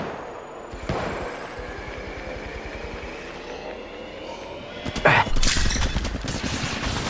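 Rapid bursts of automatic gunfire in the mobile shooter Apex Legends Mobile, a dense rattling fusillade throughout with a louder close burst near the end, amid game ambience and engine-like hum.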